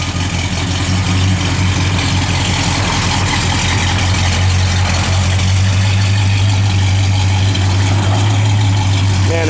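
A 1966 Pontiac Catalina 2+2 idles close by with a steady, deep, loud rumble and an even low drone that holds unchanged from start to finish.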